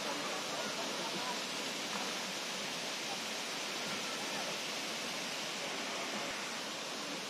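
Sri Getuk waterfall in Gunung Kidul, Yogyakarta, gives a steady, loud, unbroken rush of falling water that fills the whole stretch.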